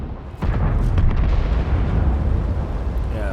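A tank cannon fires at a T-34 in a tank combat game, a sharp boom followed by a heavy, rolling rumble that slowly fades.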